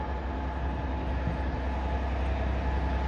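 Class 66 freight locomotive 66742 pulls away from Middleton Towers with a steady, continuous low rumble and broad diesel roar throughout, with no talk over it.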